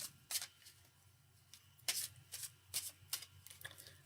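A deck of cards is shuffled and a card is pulled, giving several quick crisp riffling bursts close by at an uneven rhythm, with a low steady hum underneath and no talking.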